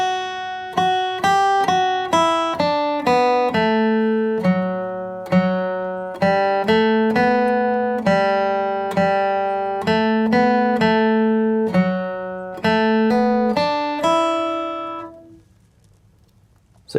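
St. Anne's Reel fiddle tune flatpicked on guitar, measures 10 to 13: a brisk run of clear, evenly spaced single notes played alone and close, ending on a ringing note that fades out.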